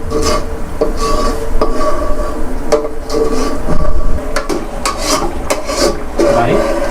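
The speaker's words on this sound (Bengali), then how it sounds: "ভিউয়ার্স আপনারা যখন ক্রিমটা দিয়ে কিছুক্ষণ তাপ দিয়ে নাড়তে থাকবেন, অটোমেটিক আমাদের সেই কাঙ্ক্ষিত ঘি তৈরি হয়ে যাবে।" Cream heated in a pan is stirred into ghee, giving a steady scraping and rubbing of a utensil against metal with repeated sharp clinks, loud and close, over a constant low background hum.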